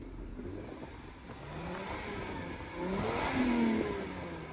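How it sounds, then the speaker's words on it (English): A Lexus IS 300 car engine revs up twice, rising in pitch with a steady rumbling drone, the second rev louder and higher before settling. "Let's hear some revs."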